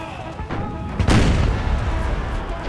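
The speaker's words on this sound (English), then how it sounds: "let's see what the artillery is up to close range here" Artillery firing shrapnel shot on an American Civil War battlefield in Empire: Total War, with a heavy boom landing midway over a rumbling backdrop of distant battle noise.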